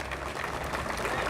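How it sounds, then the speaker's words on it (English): A crowd at a Houston Veterans Day ceremony applauds in a steady, dense wash of clapping that holds at an even level throughout the brief moment. "Give him another big hand of applause."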